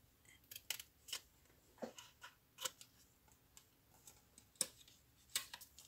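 Scissors snip through paper card while making a Stampin' Up place card, a string of short, crisp, close cuts in an irregular rhythm against a quiet room.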